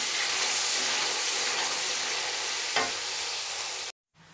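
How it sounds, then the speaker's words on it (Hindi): Cinnamon, black cardamom and bay leaves fry in hot oil in a pan, making a loud, dense, continuous sizzle and hiss that cuts off abruptly at the end, with no talking. "ये 3 अदद मैं तेज़ पत्ते डाल रही हूँ और इसको मैं अच्छे तरीके से भून लूँगी"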